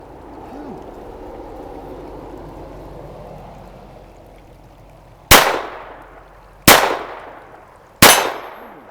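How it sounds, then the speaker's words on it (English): Three sharp, loud .22 pistol shots from a Ruger MK IV crack outdoors a second or so apart, each ringing off briefly, after several seconds of quiet background hum. "Missed the first 2 shots."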